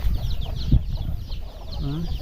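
Pet chickens cluck softly while foraging for food on a hot day, with a few short, brief calls over a steady low rumble of background noise.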